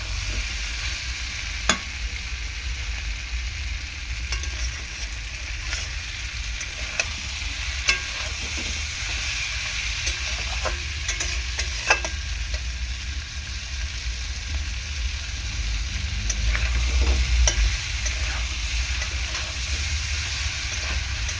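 Pre-fried pointed gourd and potatoes are sautéed in a pan, a steady soft sizzle running throughout with occasional sharp clicks and scrapes of stirring, and no talking.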